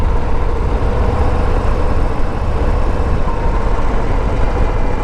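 A 2022 Harley-Davidson Low Rider ST on a road shakedown ride gives a constant loud roar of engine and wind, steady and close, with no breaks.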